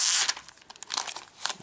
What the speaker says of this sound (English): We're just going to peel this back.